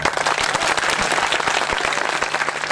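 An audience at a unity march gathering breaks into steady, dense applause. The clapping stays loud and continuous throughout.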